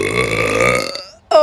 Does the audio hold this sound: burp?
yes